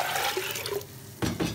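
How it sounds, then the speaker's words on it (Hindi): Water is poured into a cooking pot to steam sweet potatoes: a steady, splashing rush of liquid that thins out midway, then a brief louder burst of water near the end. "पहले पानी ऐड करेंगे"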